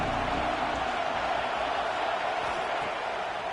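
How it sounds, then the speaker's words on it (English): A football stadium crowd at a Michigan versus Wisconsin game, a dense continuous roar filling the whole space at even volume, with no single voice standing out. "This crowd ready to make its presence known."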